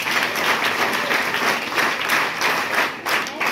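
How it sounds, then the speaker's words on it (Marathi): A hall of schoolgirls and audience at a Class 10 exam guidance session break into sustained applause, dense rippling claps filling the room evenly from start to finish. "एकदा पास झालेल्या मुलींसाठी टाळ्या वाजल्या."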